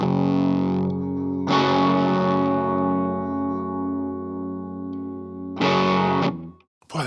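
A B.C. Rich Mockingbird electric guitar plays heavy, distorted chords that ring out and sustain, with a fresh strum at about 1.5 seconds and another near 5.6 seconds before cutting off. The tone is loud, thick and saturated, with no talking.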